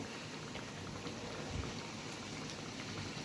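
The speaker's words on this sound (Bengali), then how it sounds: "এখানে অলরেডি গরুর মাংস আমার কষিয়ে রেখেছি এখন এটাকে গরম করছি" Already-braised beef curry reheating in a pan gives off a steady, faint sizzle and crackle, a constant hiss like light rain with no pauses and no voices.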